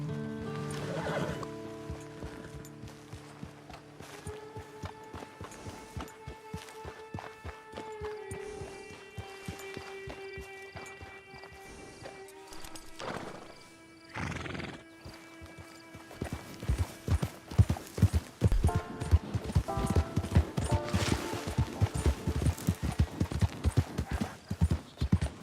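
Horse hooves clip-clopping during riding in the video game Red Dead Redemption 2, with whinnies over orchestral game music, the steady hoofbeats growing louder and busier toward the end.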